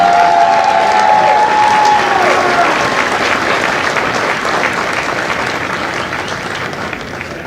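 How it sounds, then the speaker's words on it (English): A crowd at a Marine Corps recruit graduation ceremony in San Diego claps loudly for the company staff, a thick, continuous burst of applause that slowly fades toward the end. "please join me in a round of applause for the company staff of Company E."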